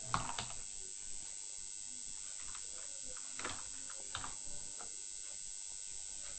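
Soft, irregular key clicks from someone typing code on a computer keyboard, a quick scattered burst of light taps spread across a quiet room with a steady background hiss.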